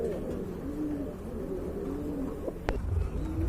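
Pigeons coo at a large pigeon farm, soft repeated low throaty calls overlapping close by against a faint background hum.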